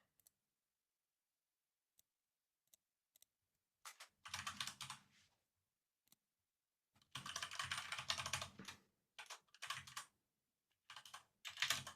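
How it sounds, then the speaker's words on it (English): Live typing on a computer keyboard in a quiet room: isolated single key clicks, then quick bursts of rapid tapping in several clusters, close and crisp with silence between. "Live typing."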